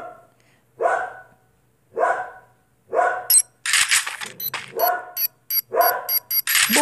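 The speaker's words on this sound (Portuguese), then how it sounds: "esses meus cachorros não deixam de gravar em paz" Pet dogs barking repeatedly indoors in a house, a series of loud, close barks and yips that grow denser and overlap toward the end, with no talk over them.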